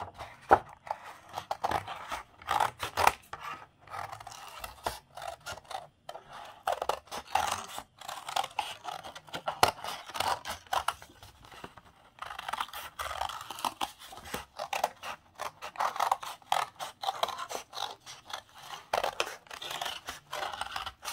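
Scissors cutting a paper tree shape, with a steady run of crisp snipping and rustling strokes close by, irregular in rhythm and carrying on alone throughout.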